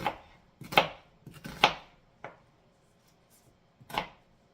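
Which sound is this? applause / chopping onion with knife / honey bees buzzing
chopping onion with knife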